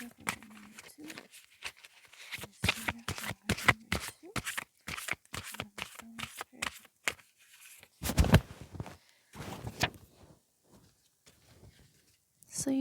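Lemuria oracle cards are shuffled in quick bursts of soft papery riffles and flicks, close and intermittent, with a quiet voice speaking between them.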